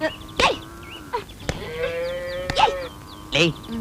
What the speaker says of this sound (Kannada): ಯಾವಂದ ಈ ದನಗಳು? ಯಾವನವನು ಬಿಟ್ಟಿರೋದು?